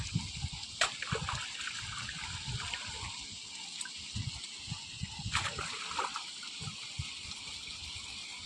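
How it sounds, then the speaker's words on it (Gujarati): Water flows through an irrigation channel in an onion and carrot field, a continuous trickle with splashes and sloshes, near and moderately quiet, with occasional faint background sounds. "ધોરિયામાં બહુ પાણી આવે।"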